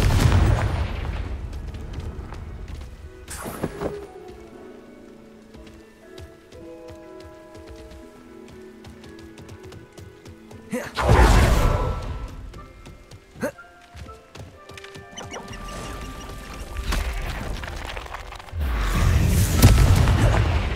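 Confringo fire spells burst in Hogwarts Legacy gameplay as loud, booming explosions in two heavy bursts, with crackling debris and rumbling between them.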